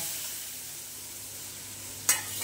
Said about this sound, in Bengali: কি তেজপাতাটা ফোড়ন দিয়ে দিল, এইবারে দিয়ে দেবে মশলাটা।